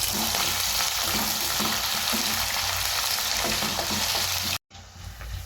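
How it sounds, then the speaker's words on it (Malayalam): Ginger, garlic and green chillies sauté in hot oil for a tomato pickle, giving a loud, dense, continuous sizzle with light stirring underneath, cut by a brief drop near the end before the frying resumes more quietly. "ഇഞ്ചി വെളുത്തുള്ളി എല്ലാം ചേർത്ത് കൊടുക്കാം പച്ചമുളക് നല്ലതുപോലെ ഇളക്കി വഴറ്റണം"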